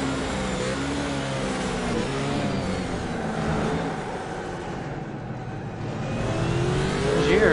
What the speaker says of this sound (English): I love listening to the tires just scream for traction